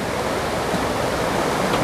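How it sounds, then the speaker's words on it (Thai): A waterfall beside a picnic spot pours in a steady, loud, broadband rush of flowing water, continuous and unbroken with no voices. "มาที่นี่ก็น้ำตกเนาะมันก็เย็นสบายดีครับน้ำไหลๆน้ำใสๆ"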